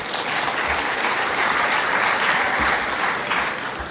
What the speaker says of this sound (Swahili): Muwapigie makofi.